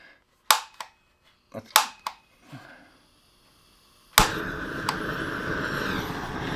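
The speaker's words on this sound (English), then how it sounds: "Nice little trigger back there, little igniter." Several sharp clicks from the trigger igniter of a Saker multi-use torch come in quick bursts, then a sudden loud, steady hissing roar takes over as the torch lights and keeps burning.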